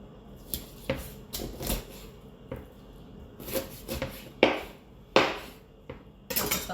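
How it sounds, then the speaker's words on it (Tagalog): A knife slicing fish on a cutting board while preparing a meal, a series of separate sharp knocks and cuts at an irregular pace, close and fairly loud, with almost no talking. "Ganyan ang paghiwa ko."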